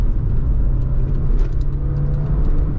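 Audi TT 1.8 turbo car pulling under acceleration around 2500 rpm in third gear, a steady loud low engine drone with whirring from inside the cabin, continuous throughout and no talk.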